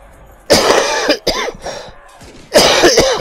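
A man coughs several times in harsh, close bursts, clearing his throat between them, loud and alone.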